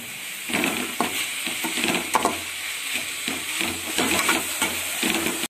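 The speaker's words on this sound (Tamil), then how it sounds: "நம்ம தேங்காயெலாம் போட்டு நல்லா கிண்டி ரெடி ஆகிட்டு இருக்கோம்" Grated coconut stirred through a moringa leaf stir-fry in a pan, with a low sizzle under repeated scraping, scooping strokes of a spatula against the metal, close by and with no talk.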